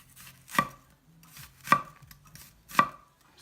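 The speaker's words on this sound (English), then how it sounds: "So you just go in at a slight angle into the middle of the onion" Three evenly spaced knife cuts slicing into an onion on a cutting board, each a crisp close thunk against the board with quiet handling between, no voice over them.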